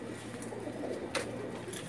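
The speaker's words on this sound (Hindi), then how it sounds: "लाल परी कबूतर है जी, माशाल्लाह।" A Lal Pari pigeon, a red-feathered breed, coos on a rooftop loft, soft low rolling calls that continue steadily through the moment.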